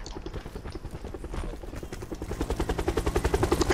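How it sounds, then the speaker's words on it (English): A video game helicopter gives off a steady rhythmic rotor thumping that grows louder and faster toward the end, close and dominant, with faint game noise beneath. "There we go, I have the helicopter."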